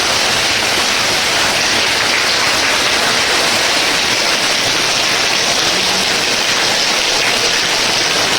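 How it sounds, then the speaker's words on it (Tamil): Heavy rain pours in a dense, loud, unbroken hiss that stays steady throughout, with no voices. "அளவுக்கு மழை பெஞ்சு இருக்கும்."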